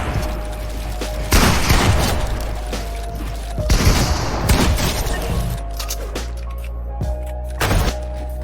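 Rapid video game gunfire crackles in bursts over a steady low hum, with louder volleys around the middle and near the end, no talking.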